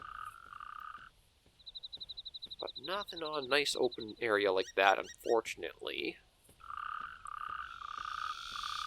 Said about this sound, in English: Do we hear, like, frogs or something?